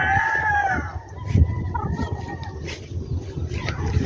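Chickens on a gamefowl farm in Bacolod cluck and crow nearby, with a drawn-out rooster call at the start and scattered clucks and bird calls over a busy background.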